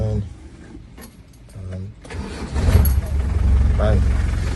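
A cold 200Tdi diesel engine cranks in short bursts, then catches and settles into a loud, steady diesel running note.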